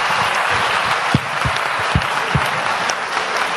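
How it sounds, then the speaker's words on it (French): Audience applauding at the Démosthène eloquence contest small final in 2015, a dense, steady wash of clapping from a full room with a few heavier low thumps, sustained throughout without speech. "On peut applaudir Monsieur Engel."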